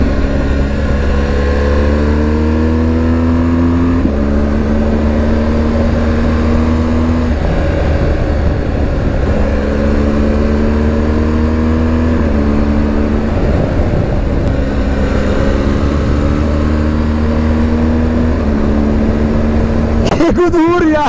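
A BMW R1200 GS Rallye motorcycle engine pulls hard through several rising gear-by-gear climbs, loud and close with a steady drone beneath, while a rider talks over it.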